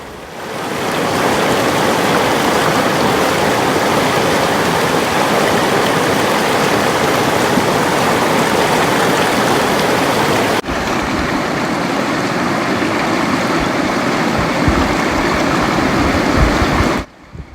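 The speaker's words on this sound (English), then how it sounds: "Been following the Swift Creek." Swift Creek in the Uinta Mountains rushes loudly and close by, a dense unbroken roar of churning mountain water that holds steady for the whole stretch and then cuts off abruptly at the end.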